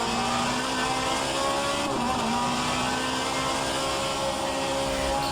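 A steady, loud engine drone from an Alfa Romeo 155Ti race car at Silverstone holds close and constant in a racing game, with a slight dip in pitch partway through and no talk over it.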